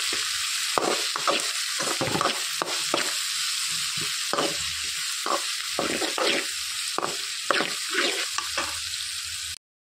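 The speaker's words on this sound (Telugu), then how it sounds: "ఉల్లిపాయలు అనేవి వేగిపోయాయండి." Chopped onions with turmeric fry in oil for a banana fry, under a loud continuous sizzle with a steady rhythm of close spatula scrapes as they are stirred, cutting off abruptly at the end.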